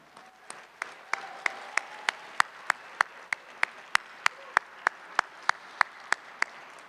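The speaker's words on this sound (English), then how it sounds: "So please, a round of applause for them." A large conference crowd at an ETHDenver closing ceremony applauds event staff, with a steady wash of clapping and a few sharp, distinct claps standing out at a regular pace, heard from a distance.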